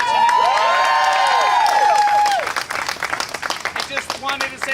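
A crowd at a Medicaid expansion rally in Richmond, Virginia cheers with loud whoops and shouts, then breaks into ragged, uneven clapping as the voices fade.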